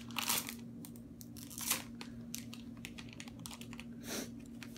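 Grossery Gang blind bag foil packaging being torn and crinkled open close up, a soft run of ripping and rustling bursts over a faint steady hum.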